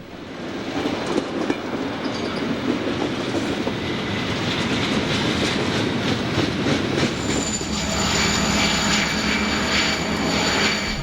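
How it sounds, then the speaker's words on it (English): Norfolk Southern pusher locomotives roll past on a double-tracked mainline, a loud, sustained engine roar and wheel rumble that holds steady for the whole stretch, with no voices. "There are the pusher engines."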